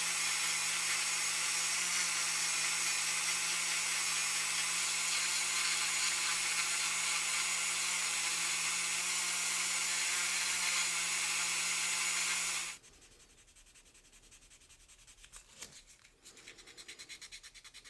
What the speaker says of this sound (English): I'm just going to keep on sanding that down